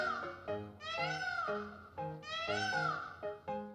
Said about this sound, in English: Peacock, loud, shrill, meow-like call.